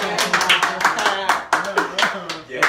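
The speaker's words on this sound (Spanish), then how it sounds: "¡Aplausos, ve!" Hands clap in uneven bursts at a bongo raffle event in Peru, with people talking loudly over the claps close by.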